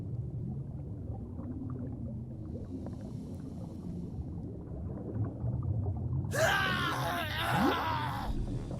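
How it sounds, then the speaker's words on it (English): A drowning creature in the game ARK lets out a death scream, a sudden loud strained cry with falling pitch, heard over a low rumbling underwater ambience near the end. "listen to the death scream."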